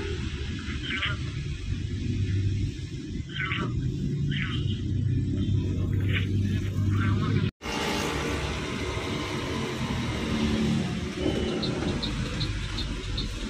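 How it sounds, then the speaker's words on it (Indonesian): Traffic jam in Makassar heard from inside a bus, a constant low engine rumble and road noise with a few faint high horn or chirp sounds over it. "Macet Makassar, cuy."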